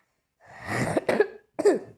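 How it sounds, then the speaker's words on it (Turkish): Two harsh, close coughs with a short pause between them, with no talking around them. "Bu arada biraz fena öksürüyorum."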